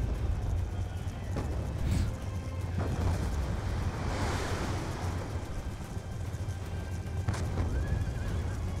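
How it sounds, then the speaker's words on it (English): A horse in a video game whinnies and neighs over steady clip-clopping hooves, with a rushing, windy background throughout. "Oh yes, falling off the horse"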